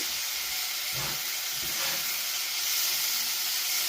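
Egg masala curry fries in a pan over a slow-medium flame, giving a continuous, even sizzle and hiss with a couple of soft stirring scrapes near the start and no voices.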